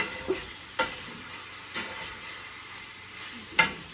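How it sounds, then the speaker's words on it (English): Onion and garlic fry quietly in a pan as squash dinner cooks, a faint low sizzle broken by four sharp scrapes or taps of a utensil against the pan, spaced irregularly. "I'm going to add some garlic to this with my onion too."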